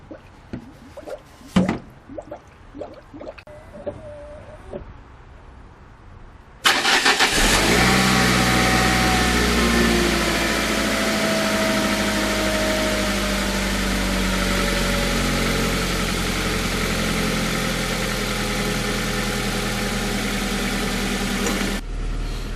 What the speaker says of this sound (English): then you start the engine